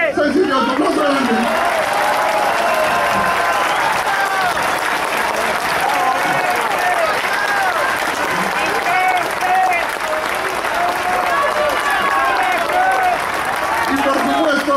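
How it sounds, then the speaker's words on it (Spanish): Sustained crowd applause at a political assembly in Parque Rivadavia, dense clapping holding steady and loud for the whole stretch, with cheers and voices mixed in. "Carlos Boca, Cecilio, tu aplauso grande."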